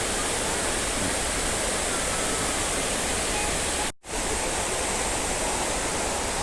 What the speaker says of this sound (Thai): ช่วงนี้ก็ปล่อยให้ ลูกค้านะครับ ชม กับ ความสวยงามของน้ำตกไปก่อนนะครับ